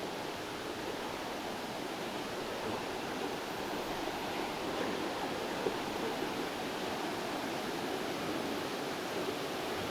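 Steady broadband rushing of a strong, clear river at Kuala Kubu Bharu, Malaysia, constant and fairly loud throughout with no pauses and no voices.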